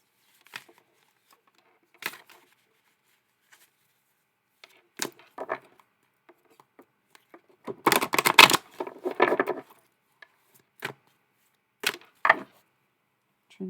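A tarot deck being shuffled by hand, with scattered soft card riffles and taps, a dense burst of shuffling in the middle and short bursts after, close and alone.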